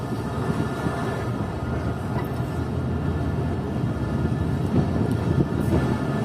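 Steady, loud rolling rumble from a passenger train moving along the line just after leaving Chaman railway station, a continuous low roar of wheels and carriages with no break.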